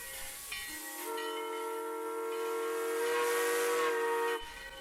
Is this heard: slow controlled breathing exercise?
no